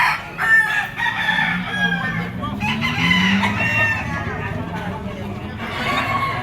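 A Boston white-legged rooster crows at an outdoor market in Padre Garcia, Batangas, its drawn-out calls rising above loud crowd chatter and someone talking nearby, with clucking fowl around.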